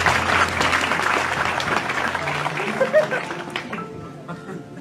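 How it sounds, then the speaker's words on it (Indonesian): A crowd at a talk gathering gives a burst of applause that starts full and steady, then thins out and fades, with voices heard beneath and after the clapping. "Pak Muzamil, sekarang tepuk tangan untuk terakhir Pak Muzamil ya."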